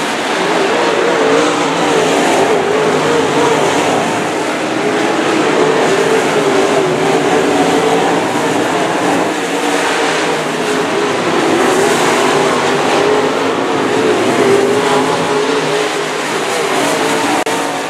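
Modified race cars at Humboldt track during a USRA race, engines roaring continuously and loudly as the field laps, with the rising and falling drone of several cars passing.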